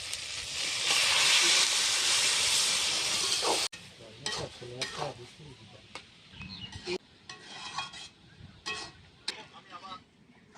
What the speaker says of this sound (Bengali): এবার সিদ্ধ করা ডালটা দিয়ে দিচ্ছি ফোড়নের মধ্যে